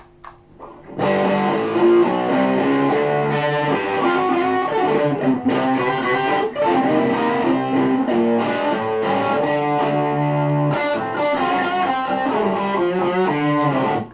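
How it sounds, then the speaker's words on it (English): Electric guitar played through a Nemphasis Dark Lady distortion pedal, with sustained, heavily overdriven chords and notes ringing loud and continuous, alone without voices. "if your taste wants to go to the dark lady, which is another form of distortion"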